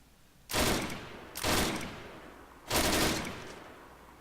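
Three long bursts of automatic gunfire in the military shooter ArmA 3, each a dense, sustained rattle lasting about a second, loud and close with fading tails between them and no talking.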